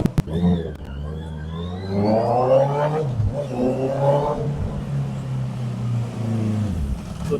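A 2017 Honda CB650F motorcycle engine revs up close, rising in pitch and falling back twice in strong throttle blips over a steady idle, loud and alone.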